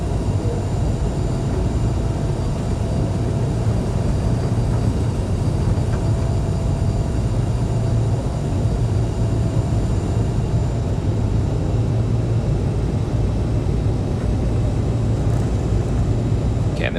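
A steady, unbroken drone from an airliner's APU heard from inside the cockpit in Microsoft Flight Simulator 2020, with constant low rumble and faint tonal hum and no change over time.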